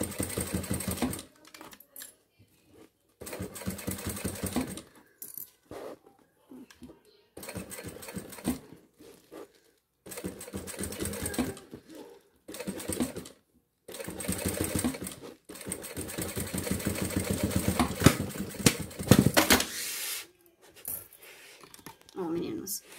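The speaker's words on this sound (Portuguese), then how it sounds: "Pode ver que eu tô numa máquina industrial, porém, eu tô indo bem devagarzinho" Industrial sewing machine stitching synthetic material for an insulated bag, run slowly in short bursts of rapid needle rhythm separated by pauses, close and clear, with someone talking between some bursts.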